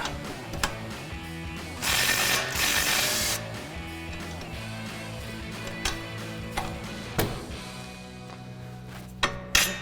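Ratchet wrench clicking while removing coil-over bolts on a 2005-2014 Ford Mustang during a Five8 Industries SS Sport coil-over install, close and steady with metallic ticks, a brief louder burst of rapid clicking, and sharp knocks of tools near the end.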